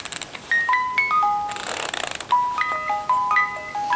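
A music-box tune of Swan Lake plays from a handmade musical doll, with bright chiming notes in a slow melodic line, loud and close, along with a brief rustle of handling and no voices.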